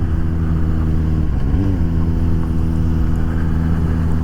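Suzuki GSX-S750 motorcycle engine heard while riding, a loud, steady droning inline-four note close to the mic, with a brief dip and swell in pitch partway through under constant wind rush.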